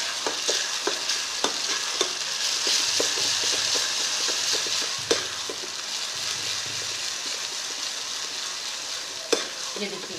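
Semolina halwa being stirred in a pan over a low gas flame: a soft, continuous sizzle with repeated scraping strokes of a spoon and a couple of sharper knocks against the pan.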